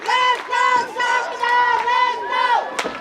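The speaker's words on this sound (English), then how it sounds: "not a lot of them, but man, they are loud on this side of the football field." A small but loud home-side crowd at a high school football game between Chaminade and Poplar Bluff yells in long, sustained chant-like bursts, close and forceful, with a sharp shout near the end.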